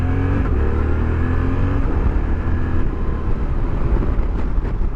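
A 2023 Suzuki V-Strom 800DE adventure motorcycle pulls away on a town street, its engine droning steadily and climbing in pitch through quick-shifted gear changes, loud and close with wind rush and no talking.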